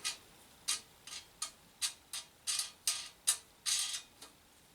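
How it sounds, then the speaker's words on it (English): A wing nut being screwed by hand onto camp gear, producing about a dozen crisp metallic clicks and ticks in an uneven rhythm, close and clear with no talk. "we're going to use one of the wing nuts, and we're just going to screw it on here"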